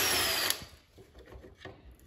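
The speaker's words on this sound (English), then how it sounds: "Right now I'm using an 8mm to take the headlight assembly apart." Power tool with an 8mm socket driving out a bolt from a Dodge Charger fog light assembly, a short close whir that cuts off after half a second, followed by quieter handling clatter.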